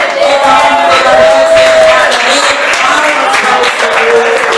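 A church congregation at a worship service in Granja de Freitas, Belo Horizonte, claps loudly and continuously, with voices calling out over the dense, steady applause.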